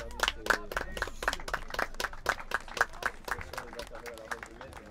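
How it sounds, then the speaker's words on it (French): Spectators applaud a departing player at a rugby match between Bordeaux and the Atlantic Coast All Stars, a steady patter of scattered claps over crowd murmur and commentary-like voices. "on peut l'applaudir, ce joueur"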